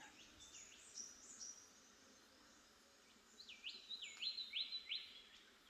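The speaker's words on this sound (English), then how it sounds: "Got birdsong here." Birds sing by a creek in a pine forest, with a few thin, high whistled phrases followed by a quicker run of bright, repeated notes, set against a soft, hushed background.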